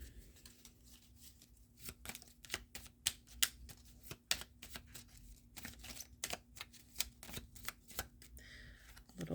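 Oracle cards from a Making Magic deck are shuffled by hand in a run of quick, crisp riffling snaps with irregular rhythm, close and quiet, with no voice.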